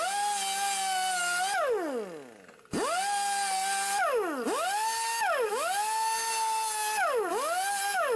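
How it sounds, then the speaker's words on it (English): A small cheap flap wheel on a power tool grinds rust from vintage 8 hp Briggs and Stratton Snapper Toro riding mower parts, a loud close whine that dips in pitch under load several times, cuts out briefly, then spins back up. "I do have this little cheap flapper wheel. I don't know if it'll work."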